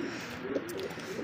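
Indian Chila pigeon cooing softly in a low, steady murmur, close by and fairly quiet, with brief swells in the call.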